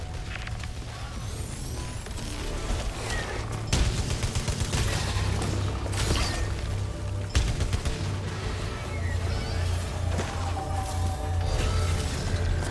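Shielded turrets in the video game Returnal fire a sustained volley of rapid sci-fi gunshots over a droning low hum, with sharp bursts and crashes scattered throughout.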